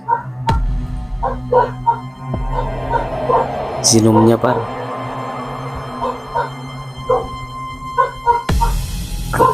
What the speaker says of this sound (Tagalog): ang ingay ng mga aso dito sa labas pa.